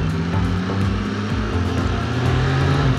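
A 2024 Triumph Street Triple RS inline-triple engine runs loud and close, a dense steady growl with slight pulsing rises in pitch, with no talk over it.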